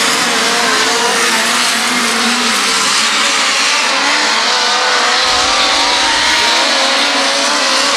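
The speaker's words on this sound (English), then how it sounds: "But Kuhn with a pretty smooth line through the corners" Midget race cars racing at Valley Speedway, engines roaring loud and continuous as they run through the corners, with high revving tones rising and falling.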